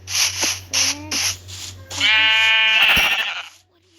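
Sheep bleating in the video game Craftsman, several short bleats followed by one long wavering bleat, loud and close with no talk.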